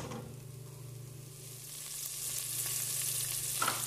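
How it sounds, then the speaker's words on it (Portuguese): Bacon frying in a pan with no oil, rendering in its own fat: a steady, close crackling sizzle that grows a little busier toward the end, with a low constant hum underneath and no talking. "eu vou deixar, dar uma fritadinha aqui, ó, sem óleo, porque ele já vai soltar o olhinho"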